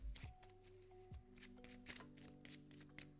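A deck of cards for the Dragons of Etchinstone board game shuffled by hand, with quick papery riffles and flicks in close, bursty clusters that repeat several times over a few seconds.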